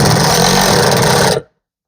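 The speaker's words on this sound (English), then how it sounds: "now I can drill in the second lag bolt." A power drill drives a lag bolt into a wall to mount a clamp storage rack made from a 1x4, whirring loudly and steadily for over a second before stopping abruptly into silence.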